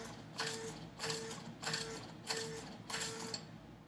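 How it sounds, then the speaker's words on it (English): A Zebra ZT600 RFID printer prints and encodes a label, giving a quiet, steady mechanical whirring that pulses in five even bursts about every 0.6 seconds. "that's how you print and encode an RFID label using a Zebra ZT600 RFID printer"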